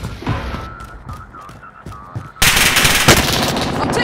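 Gunfire in Call of Duty Modern Warfare, scattered shots at first, then a loud, sustained rattle of automatic fire close by that continues to the end.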